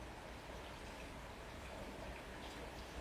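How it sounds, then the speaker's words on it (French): Heavy rain falling steadily outdoors, a dense continuous hiss with scattered drops, no voices. "vraiment il pleut beaucoup là"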